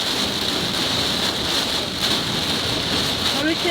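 Steady, loud rain pours down during the tail end of Hurricane Michael in Florida, a dense continuous hiss close by that fills the whole stretch with no break.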